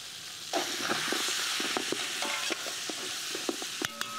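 Lamb with coarsely chopped onions sautéing for Hungarian goulash, a steady loud sizzle that starts after half a second and runs on, with scattered utensil scrapes and taps over it and no talk.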